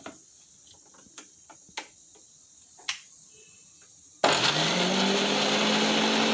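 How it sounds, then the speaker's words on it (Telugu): A mixer grinder whirs loudly and steadily as it grinds a cooled cashew masala mixture to a fine paste, starting abruptly after a few quiet clicks and taps of the jar being set up. "ఇప్పుడు ఒక మిక్సీ జార్ తీసుకొని చల్లారిన ఈ మిశ్రమాన్ని వేసి మెత్తగా మిక్సీ పట్టుకోవాలి"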